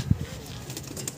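A pet pigeon with an eye ailment gives a single short, low coo close by at the start, followed by quieter rustling and faint background sounds.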